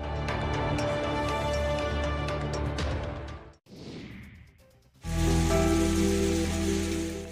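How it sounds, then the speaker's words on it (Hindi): Steady broadband wash of rain driven by strong wind in Gopalganj, loud and continuous, dropping briefly to a hollow whooshing gust in the middle before the dense downpour roars back. "सुबह से ही तेज हवा के साथ रुक रुक कर बारिश हो रही है"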